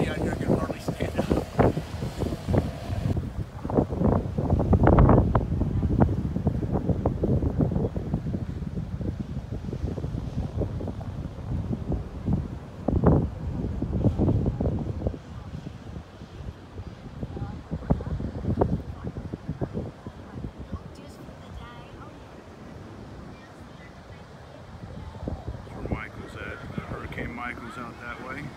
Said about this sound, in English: It's just so windy out here, I can hardly stand up.